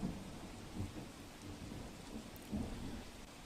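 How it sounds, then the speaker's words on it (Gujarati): Continuous heavy rain falling in Upleta, a faint steady wash of rainfall with soft low rumbles rising briefly near the start and again later, no voices. "ઉપલેટામાં મોડી રાતથી વરસાદ અને હજી સુધી વરસાદે વિરામ લેવાનું નામ નથી લીધું"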